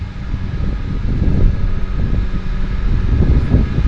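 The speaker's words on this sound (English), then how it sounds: "So they're backing the aircraft up." A floatplane being backed up at Vancouver Harbour's downtown harbour airport: a steady, rough engine rumble with wind buffeting, sustained at moderate distance for a few seconds.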